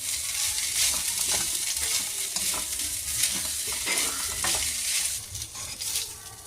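Garlic egg fried rice being tossed and mixed in a hot pan, a steady sizzle with scraping stir strokes running throughout, fairly close and continuous, with no voices.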